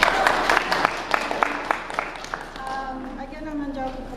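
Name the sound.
applause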